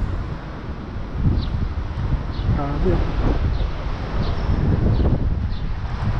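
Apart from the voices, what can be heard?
strong wind from typhoon landfall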